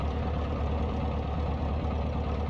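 A simulated light aircraft piston engine idles at 1,000 RPM in a flight simulator, producing a steady, close, low droning rumble with no gaps.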